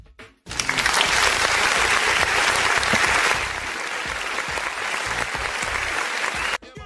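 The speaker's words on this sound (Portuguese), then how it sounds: "Todo programa eu quero uma salva de palmas para Malu Gaspar, Bruno." Sustained applause from a crowd, steady and loud for several seconds before stopping abruptly.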